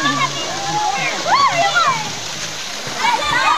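Children splashing in an outdoor swimming pool: loud, near splashes and sloshing water with excited kids' voices and shouts throughout, plus an adult talking over them.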